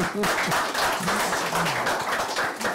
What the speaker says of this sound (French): rien que ça mérite les applaudissements